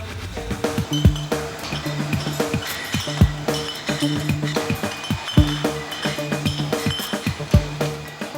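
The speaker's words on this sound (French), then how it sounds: "Arrive enfin le moment de la mise en bouteille." Wine bottles of Bugey red at Maison Angelot clink along a modern bottling line, a steady rhythmic run of sharp glassy knocks over a continuous machine hum, loud and close with no talk.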